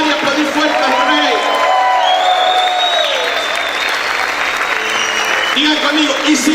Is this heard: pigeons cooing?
no